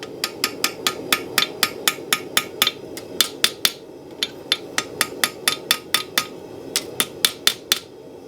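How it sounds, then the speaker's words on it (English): Light hammer blows on steel as a blacksmith forges a spoon: a long series of sharp, ringing metallic strikes in quick, fairly even rhythm with a few short pauses, close and clear over a low background hum, with no talk. "Just nice light blows."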